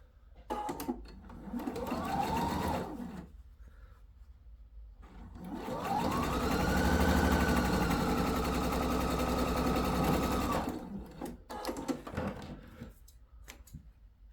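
A sewing machine joins fabric pieces for a sailor hat, stitching in two bursts: a short run, then a longer steady whirring run that rises and slows. Brief handling clicks come between the runs.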